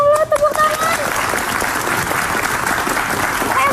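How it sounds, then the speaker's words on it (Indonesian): Studio audience on an Indonesian talk show breaks into steady applause for a child who has memorised Quran verses, dense clapping filling the moment while a voice speaks briefly at the start. "tepuk tangan"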